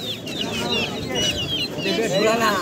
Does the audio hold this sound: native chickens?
yes